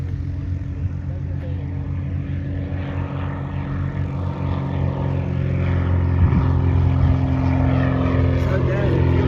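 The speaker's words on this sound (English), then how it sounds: "Yep, that's the seaplane, I think, Mike." A propeller-driven seaplane flies past at an air show, its steady droning engine hum swelling louder toward the end while people talk nearby.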